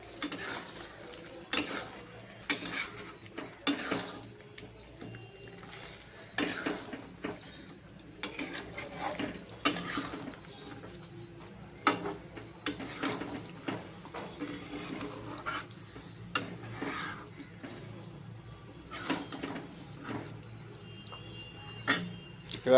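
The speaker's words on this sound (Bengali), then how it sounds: "একটু নাড়িয়ে চাড়িয়ে নেব।" A spoon clatters and scrapes against a pot while meat curry with garam masala is stirred, giving irregular close metallic knocks and scrapes over a quiet kitchen background.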